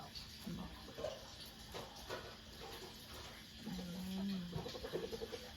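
Chickens cluck softly in short bursts over a quiet outdoor background, with a louder run of clucks toward the end.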